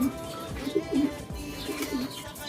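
Injured pet pigeon with a bleeding, cut foot cooing in soft, low repeated coos, close and fairly quiet, with a faint background hiss.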